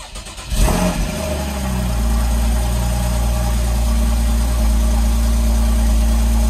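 A Porsche Boxster engine cranks and fires up with a brief rev, then settles into a loud, steady idle that continues to the end.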